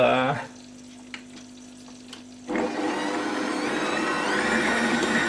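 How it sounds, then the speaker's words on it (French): After a brief quiet pause, a stand mixer starts up at first speed kneading spelt and hemp bread dough, its motor a steady close whir that rises slightly in pitch. "je vais pétrir ça 5 minutes en première vitesse"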